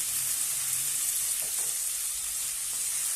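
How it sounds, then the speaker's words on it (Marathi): Washed fenugreek leaves hitting a hot pan for methi pulao: a bright, even sizzle and hiss running throughout, with a couple of faint stirring scrapes, close and alone without speech. "आता यामध्ये मेथी छानपैकी धुवून घेतलेली आहे ती घालूया"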